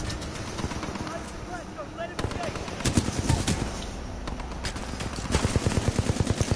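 Rapid bursts of automatic gunfire from a gun in the Titanfall 2 campaign, with sharp repeated shots clustering into heavier runs near the end over game ambience and occasional voice.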